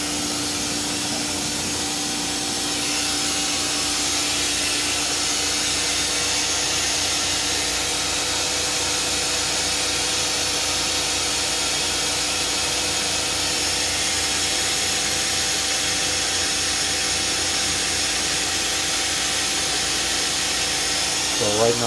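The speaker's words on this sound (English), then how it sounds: "So right now you have this whole turret is lifting." A Mazak CNC lathe turret lifts with a steady, loud mechanical whir and hum, holding an even drone with a constant tonal line through the whole stretch and no pauses.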